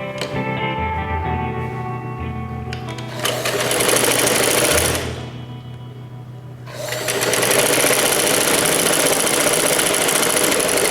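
An electric sewing machine runs steady bursts of rapid stitching as a strip is sewn onto capri trousers, loud and close, with a brief pause between runs and no talking.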